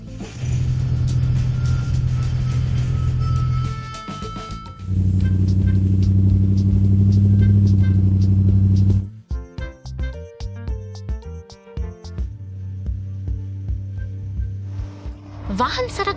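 Cartoon cars and trucks rumble along a road with steady motor drones, a pause between passes, then a stretch of clattering, ratcheting mechanical noises; close and fairly loud.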